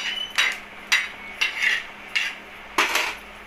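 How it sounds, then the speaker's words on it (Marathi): Peanuts are dry-roasted in a hot pan and stirred with a metal utensil, giving about six sharp scraping clanks at a steady rhythm, close and fairly loud with no talking. "मी आधी शेंगदाणे भाजून घेते।"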